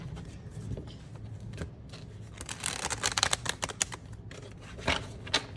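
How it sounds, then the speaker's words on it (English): Papery riffling and soft slapping of tarot cards being shuffled up close, irregular bursts of crisp rustle with brief pauses. "I'm giving it a good shuffle"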